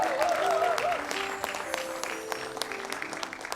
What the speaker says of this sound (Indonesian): Boleh beli tepuk tangan untuk saya?